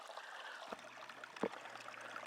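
A small creek in California's Angeles National Forest runs steadily over a gravel bar at its inside turn, a soft continuous wash of trickling water with a couple of faint knocks.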